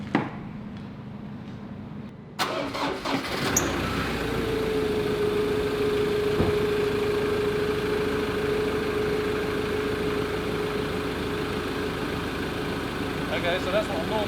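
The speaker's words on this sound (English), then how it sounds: "we're going to listen to how this car sounds like from the front." A diesel 4x4 car engine idles steadily when heard from the front, a constant close rumble running for most of the stretch after a brief start, with people talking nearby.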